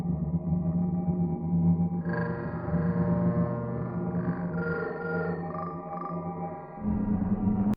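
Dark, droning ambient soundtrack music from the video game Doom 64, with low sustained tones, murky swelling textures and a faint higher eerie layer shifting midway, steady and moderately loud without speech.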